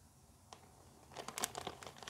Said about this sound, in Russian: И они в зип-пакетике. Открываете.